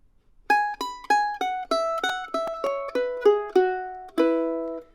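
A mandolin picks the closing tag of a tune, about ten bright, clear notes in a quick rhythm that ends on a ringing final note, close and solo.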